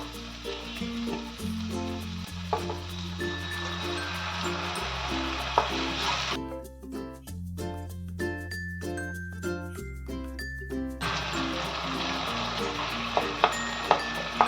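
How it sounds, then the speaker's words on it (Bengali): Steady sizzling and stirring in a pan of Bengali doi katla fish curry gravy with Kashmiri chili powder and a splash of water, with occasional light clinks and tonal music running underneath. "গ্রেভিটাকে আমাকে ভালো করে নাড়াচাড়া এভাবে করে নিতে হবে"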